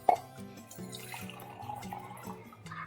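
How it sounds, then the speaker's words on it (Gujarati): Water poured onto the lid covering a pan of cooking pointed gourd: a short splash followed by soft trickling and dripping, close and fairly quiet, with no talk. "ઉપર થોડું પાણી એડ કરીશું"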